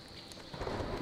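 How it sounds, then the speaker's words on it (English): Steady rain hisses in the game world of Smalland, swelling louder midway with a low rumble of thunder underneath. "It's raining."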